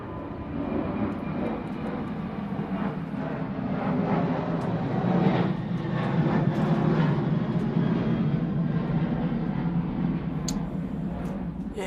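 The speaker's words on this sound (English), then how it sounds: "As another plane comes overhead." An airplane passes overhead at a women's cricket match between the Netherlands and Scotland, a steady engine drone that swells toward the middle and fades slightly, loud and continuous with no talk.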